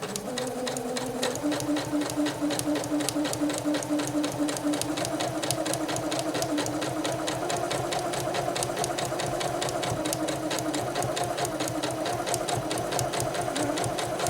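A Janome 8077 sewing machine stitches steadily for the whole stretch, its rapid needle clatter and motor hum forming a dense, even rhythm close to the microphone, with no talking over it.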